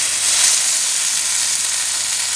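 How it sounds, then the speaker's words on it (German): Onions and apples hit a hot grill plancha with a steady, bright sizzle and hiss, close and even throughout, no voices. "Jetzt nehme ich die Pfanne etwas näher an die Plansche und gebe die Zwiebeln und die"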